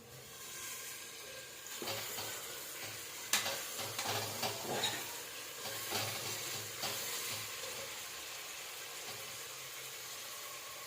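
Mushroom biryani ingredients frying in a pan, a soft continuous sizzle broken by scattered scraping stir strokes and a sharp clink, all fairly quiet and close.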